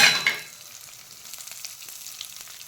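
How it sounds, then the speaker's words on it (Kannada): Coriander seeds, urad dal and chana dal dry-roast in a pan for bisi bele bath: a loud stirring rattle and sizzle at first, easing into a soft, steady crackle. "ಕೊತ್ತಂಬರಿ ಬೀಜ, ಉದ್ದಿನಬೇಳೆ, ಕಡಲೆಬೇಳೆ ಮೂರನ್ನು ಹುರಿದುಕೊಳ್ಳಿ."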